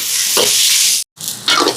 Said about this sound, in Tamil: இப்போ இதெல்லாம் நல்லா வதங்கட்டுக்கு.